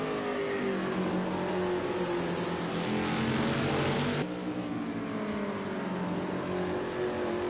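Race cars roar down the back straightaway at Circuit of the Americas (COTA), a continuous, loud engine drone that shifts in pitch partway through as the cars pass, with no talking.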